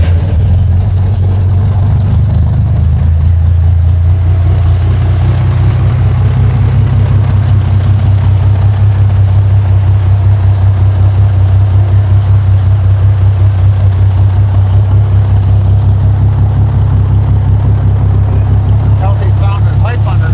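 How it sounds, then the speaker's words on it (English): A 1966 Chevrolet Corvair Monza's engine idles through its exhaust pipe, a loud, steady low-pitched burble right up close with an even pulsing rhythm, while people talk briefly over it. "It's got a healthy sounding pipe under there."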